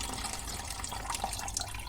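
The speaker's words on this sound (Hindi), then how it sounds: "जो हमने फर्टिलाइज़र बनाया है उसको हम लेंगे और इसमें हम छान लेंगे" Homemade liquid fertiliser made from cow dung cakes is strained, giving a steady, fairly faint trickle and splash of pouring liquid with no talk.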